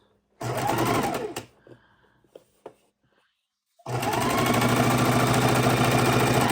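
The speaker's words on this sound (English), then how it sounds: "And sewing it straight across." A sewing machine stitches jelly roll quilt strips in two runs, a loud steady whir for about a second, a quiet gap with small handling clicks, then a longer continuous burst.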